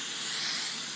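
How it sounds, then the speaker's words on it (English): A spray bottle mists a kitchen counter before bread dough is rolled out, giving one continuous close, airy hiss lasting about a second with nothing else heard. "So now just take your spray and spray the counter"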